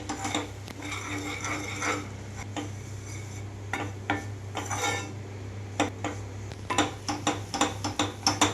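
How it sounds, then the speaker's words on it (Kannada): A spoon scrapes and clinks against a pan while flour is stirred into melted butter, with irregular metallic taps that grow quicker and sharper toward the end, and no voices. "ಇದನ್ನೀಗ ಚೆನ್ನಾಗಿ ಈ ಬಟರ್ ಜೊತೆ ಮಿಕ್ಸ್ ಮಾಡ್ಕೊಳ್ಬೇಕು"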